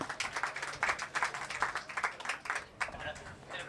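An audience applauds at an award night mushaira, with scattered, uneven clapping that rises and falls in bursts over several seconds, moderately loud, mixed with a murmur of voices.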